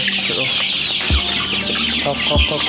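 Rhode Island Red chickens on a poultry farm in Barpeta, Assam, cluck busily at feeding time, a close, dense chorus of overlapping clucks with a few sharper calls over a steady background.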